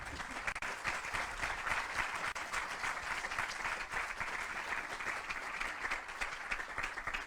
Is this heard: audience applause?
yes